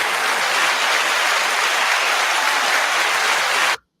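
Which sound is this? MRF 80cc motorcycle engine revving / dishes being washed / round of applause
round of applause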